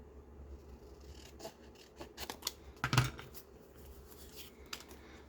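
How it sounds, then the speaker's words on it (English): Scissors snipping paper for a junk journal, a few close, soft cuts and rustles with one clearer snip in the middle, over a quiet background. "Let me cut that off."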